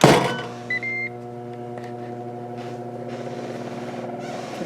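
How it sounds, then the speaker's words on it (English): A Ninja Foodi air fryer starts up with a brief beep, then settles into a steady, loud, close fan hum and whir that keeps running alone. "can hear that air fryer start right up."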